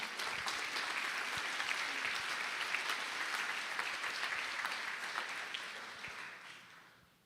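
A church congregation at Sunday service applauds, a dense even wash of clapping that holds for several seconds and then fades away.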